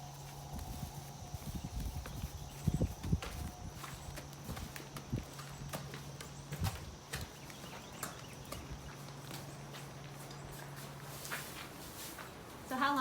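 A horse walks on a farm, its hooves clip-clopping in a steady, moderate rhythm through a faint background hum, with a few louder hoof strikes standing out near the start.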